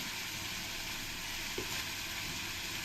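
Ground spices with salt and turmeric sizzle steadily in hot oil as they are stir-fried for a Bengali-style prawn malai curry, a constant close frying hiss with a faint scrape of stirring.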